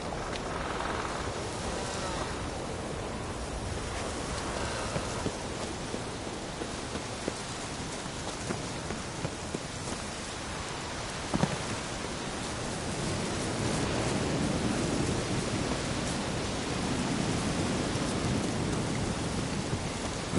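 Steady rain ambience from The Witcher 3, a dense, even hiss of rainfall that stays loud and constant throughout, with a single brief thump near the middle.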